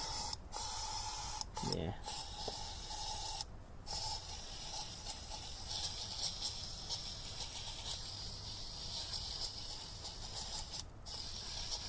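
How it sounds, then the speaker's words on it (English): Degreaser hisses from a spray can onto a Holden Cruze 1.4T turbo engine in a steady, close spray, broken by a few short gaps, with a brief spoken word early on. "Try and spray it down there a little bit more."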